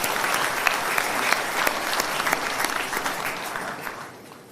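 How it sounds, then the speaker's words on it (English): A party conference hall audience of Reform UK supporters applauds, a dense, bright wash of clapping held steady before tapering off in the final second. "Give yourselves a round of applause"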